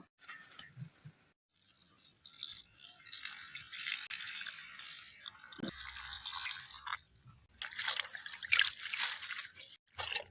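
Thankuni leaves being washed by hand in water, with sloshing, trickling and dripping in uneven bursts and short pauses, close by with no talk.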